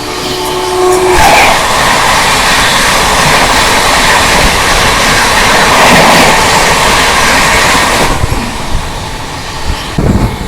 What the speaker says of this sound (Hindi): ये आ रही है भुवनेश्वर तेजस राजधानी